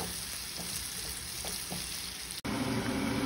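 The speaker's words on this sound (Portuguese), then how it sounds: "Vou refogar aqui até tá quase ficando assim douradinha" Chopped onion and leek sauté in a pan with a soft, steady sizzle and crackle, fairly quiet and close, with a few faint stirring taps and no talking.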